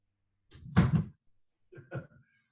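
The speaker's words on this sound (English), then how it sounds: "Let me close that door 1 second." A door is pulled shut nearby with a solid thump, followed a moment later by a softer knock and a faint latch click, the room otherwise quiet.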